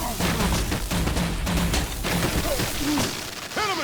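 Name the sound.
gunfire in video game Telltale Batman: The Enemy Within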